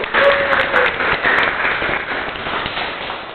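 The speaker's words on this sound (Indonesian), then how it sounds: "Kita beri aplaus untuk kelompok 1." A classroom gives a student group a short round of applause, dense clapping that peaks early and slowly fades over a few seconds.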